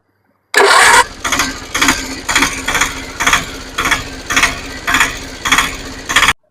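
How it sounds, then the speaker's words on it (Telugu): A Mahindra Alfa auto rickshaw with a BS3 engine, freshly rebored, starts with a loud burst. It then runs with a loud, even, pulsing chug of about two beats per second, close up and with no talk. "ఇప్పుడు ఈ బిఎస్ త్రీ ఇంజిన్ స్టార్ట్ చేసి బీడింగ్ ఎలా ఉందనేది విన్నాం"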